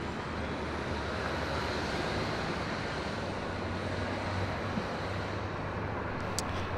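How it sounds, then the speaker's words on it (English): A Japan Airlines Boeing 777-200ER arriving at LAX makes a continuous, moderately faint broadband jet roar that holds steady throughout, with no talk. "Japan Airlines 777-200ER coming in from Tokyo Haneda."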